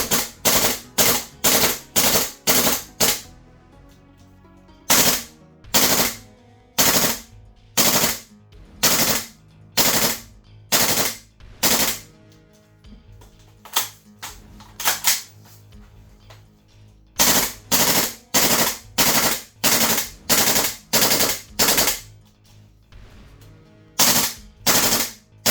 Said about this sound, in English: In full auto, it can manage 3 full mags of 30 rounds apiece with time to warm up between